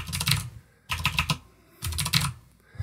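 Three quick bursts of typing on a computer keyboard, each a close, crisp cluster of key clicks separated by short pauses, with no voices.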